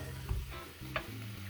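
Beef kefta in a frying pan on medium heat, a soft sizzle with a couple of brief stirring clicks over a low humming background, close but quiet, no voices.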